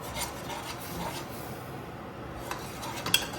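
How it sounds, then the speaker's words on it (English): Steady, soft sizzle of curry frying in a pot, with faint scraping and a small clink near the end. "I'm going to fry this curry up here, good and proper."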